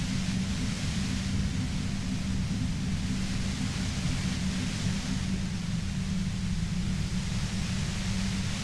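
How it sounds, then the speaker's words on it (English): Steady, unbroken static hiss fills the scene in the detective role-playing game Disco Elysium, loud and constant, with a heavy low rumble beneath the broadband noise for the whole stretch. "You hear through the white noise. It's especially bad suddenly."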